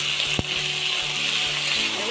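Chicken meat frying in a masala of onion, garlic and ginger, a steady close hiss of sizzling oil with a few soft stirring knocks, no talk over it.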